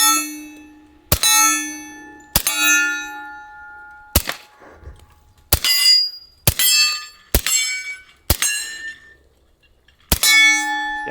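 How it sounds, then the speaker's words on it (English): Suppressed .45 ACP rounds hit a steel target: sharp metallic clangs ring out one at a time at irregular intervals, each a bright ping of struck steel, with quiet gaps between hits. "I don't know if you could hear the difference of the steel being shot with the 45"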